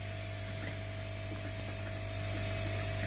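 A pump drives water hard into a ProfiDrum Eco 45/40 pond drum filter, giving a loud, constant mechanical hum with rushing water, close by and steady throughout with no pauses.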